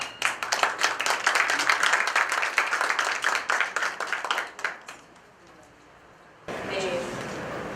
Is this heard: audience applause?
yes